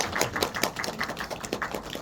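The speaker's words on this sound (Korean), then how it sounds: "박수 한번 해주시죠" Scattered audience applause at a film screening Q&A with the director and cast in a small cinema. Soft, fairly quiet clapping of a few people, heard without any voices.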